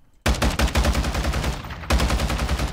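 Rapid automatic gunfire from Call of Duty Modern Warfare 2 starts abruptly after a near-silent moment and continues as loud, evenly spaced shots, with a brief dip before resuming at full force.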